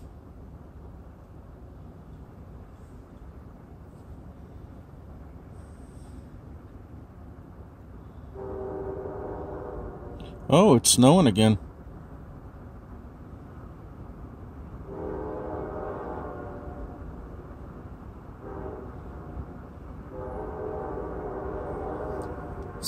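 Train cars roll past in a snowy setting with a low steady rumble, and a loud horn blast cuts in midway for about a second; a person speaks briefly.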